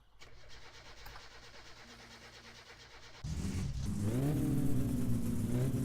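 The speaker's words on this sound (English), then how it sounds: "so I can try to start the engine" A car engine in the game My Summer Car cranks and catches after a few seconds of quiet hum, then settles into a loud, close idle with rising revs.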